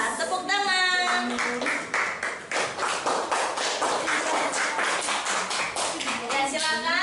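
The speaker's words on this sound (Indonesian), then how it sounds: "Tepuk tangan." A classroom group claps hands together after a lesson on parallel circuits built as a traffic light model, brisk rhythmic clapping in a close room, with voices calling out over it at the start and end.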